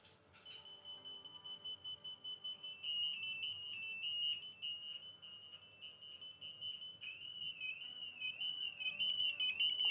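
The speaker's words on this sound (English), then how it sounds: "So you can see the remote is beeping and flashing, letting me know, hey, something's going on with my bike, right?" A bicycle alarm system sounds off, with a steady high-pitched electronic tone and a warbling beep pattern. It is faint and continuous, with no talking.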